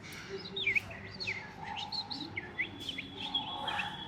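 A voice imitates small birds at a school arts festival stage, producing quick high chirps and tweets in bursts, close and fairly clear over a faint background hum.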